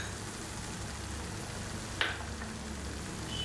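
Masala frying in oil for a fish curry: a steady, soft sizzle throughout, with one brief metallic clink partway through and no talking.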